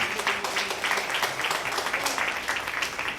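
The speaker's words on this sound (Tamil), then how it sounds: "ஒரு பலத்த கரகோஷம்." Dense, loud applause from an audience at a music festival gathering, honoring a birthday, continuous throughout with a faint voice underneath.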